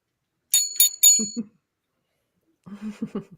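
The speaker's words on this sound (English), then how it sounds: "I'm not using a wand. I'm using a hotel bell." Three quick bright dings from a small hotel desk bell ring out in succession, followed by soft low murmuring voice sounds after a pause.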